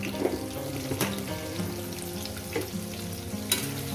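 Potatoes fry in a pan with a steady crackle of oil, interrupted by a few quick scraping stirs, close-up and without talk.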